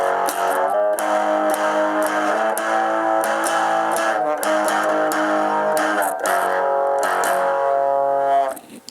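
Distorted power chords are strummed on a Stratocaster through a tiny Honeytone practice amp, thick and buzzy, played in rhythmic repeated strums, loud and close, ending abruptly with a cut-off near the end.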